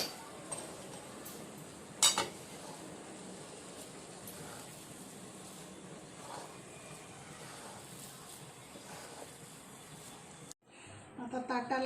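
Quiet metal spoon clinks and scrapes against a pan while grated fresh coconut filling is mixed with milk powder and cardamom powder, faint and intermittent, with one sharper clink early on, under a person's speech.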